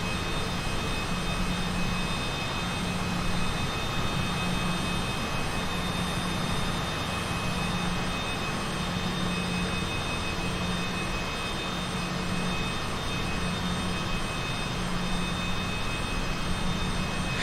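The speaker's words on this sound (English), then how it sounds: "we can see if there's any noticeable difference with this velocity on Nicky's takeoff" Jet engines of a Cessna Citation CJ4 in the MSFS 2020 flight simulator hold a steady, even roar with a faint high whine through a takeoff, with no talk.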